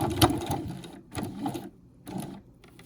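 Sewing machine stitching in three short runs while backstitching a zipper panel, each burst a quick mechanical whirr with brief pauses between, close and clear.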